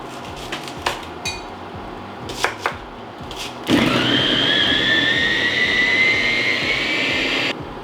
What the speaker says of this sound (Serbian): usitnila sam luk u secku